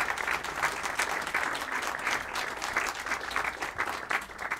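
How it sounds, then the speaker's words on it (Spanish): Audience applause for an orchestra at a farewell concert, a continuous wash of many hands clapping, moderately distant and even, with no voices over it. "Fuerte el aplauso para la orquesta."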